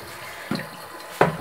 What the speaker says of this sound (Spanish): Ahora sí se va a lavar las manos.